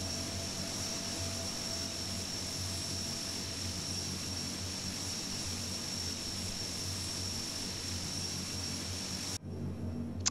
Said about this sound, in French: une fois qu'il a terminé de démarrer ses moteurs